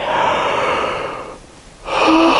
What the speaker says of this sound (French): Baillez.